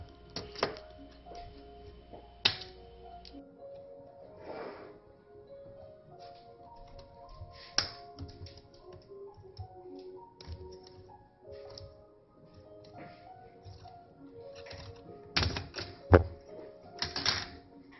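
A flat screwdriver prying the screen bezel off an Acer V7 laptop gives faint scattered plastic clicks and ticks, with a few sharper snaps spread irregularly over a quiet background.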